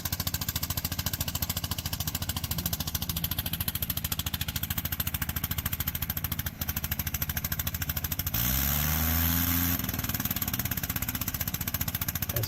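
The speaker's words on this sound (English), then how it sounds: "that is so cool how the motor's turning. And it seems like it takes a while for the prop to catch up" A rotary aircraft engine runs steadily with its propeller turning, giving a continuous close-up drone. Near the end the tone shifts and grows slightly louder as the propeller catches up.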